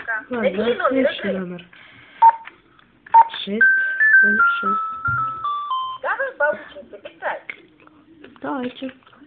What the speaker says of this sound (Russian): Набери номер игры.